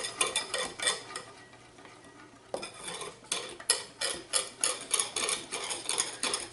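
A whisk beats through milk in a bowl, giving quick, rhythmic metallic ticks and swishes, close and fairly loud, with a brief quieter pause midway before the brisk strokes resume.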